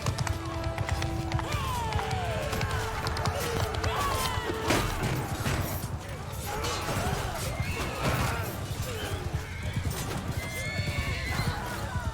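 Horses in a Bannerlord battle neigh and whinny loudly as hooves clip-clop at a gallop, with clashing impacts and crowd noise filling the scene throughout.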